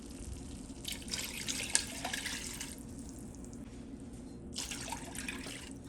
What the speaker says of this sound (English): Now I'm going to add 2 cups of beef broth to it